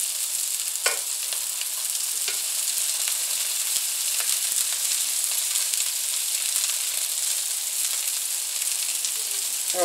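Vegan sausage fries in a pan with a steady, close sizzle, a constant bright hiss broken by a few small pops and crackles, with no talking.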